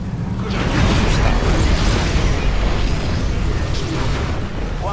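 A Mind Blast ability exploding in StarCraft II co-op battle, a loud, sustained roaring blast with crackling bursts layered over rumbling combat noise.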